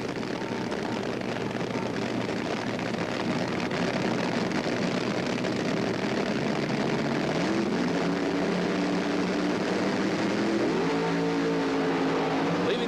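Top Fuel dragsters at the 1977 Gatornationals in Gainesville run the quarter mile, a loud, continuous engine roar that holds steady and then rises into higher, climbing tones near the end, with no talk over it.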